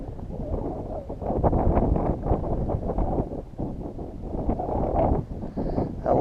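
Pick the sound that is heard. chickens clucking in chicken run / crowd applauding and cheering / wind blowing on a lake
wind blowing on a lake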